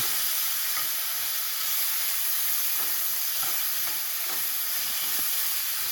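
Diced tomatoes are stirred into golden fried onions for butter chicken, a soft, steady sizzle and hiss from the pan with faint scraping taps of the spoon, close but quiet and without talk.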